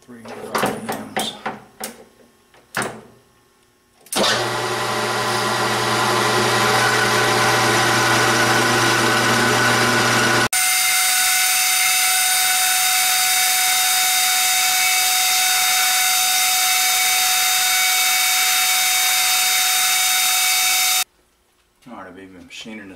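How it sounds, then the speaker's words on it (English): Metal lathe machining a small screw head with a 1/16 inch carbide bit, a few clunks and taps, then a steady loud motor whine that shifts pitch midway before stopping abruptly. "Machining a screw head here"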